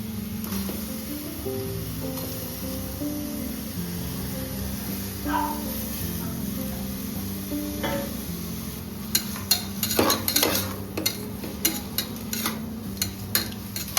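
Quick frying of spices before ginger garlic paste goes in for a simple biryani: faint low sizzle with a few scattered utensil clicks, then a busier burst of stirring and metal taps toward the end.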